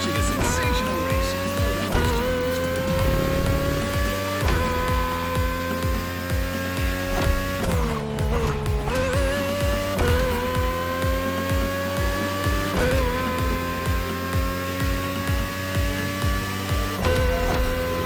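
Race cars in The Crew Motorfest, a video game, roar past the marina toward the Manalua Lighthouse, engines whining and shifting gears with tire squeal and brief dips as cars pass, loud and continuous throughout.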